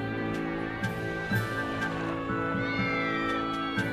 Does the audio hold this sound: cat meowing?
yes